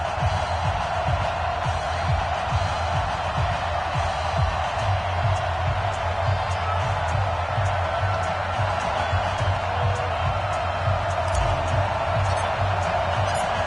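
A sold-out crowd roars steadily in an EA Sports NFL video game as the Redskins face the New York Jets, forming a constant dense wash of cheering with a low droning hum underneath.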